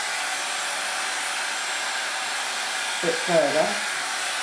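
A hot hair styler blows steadily on hair, its constant close airy whoosh running throughout, with a voice speaking briefly near the end.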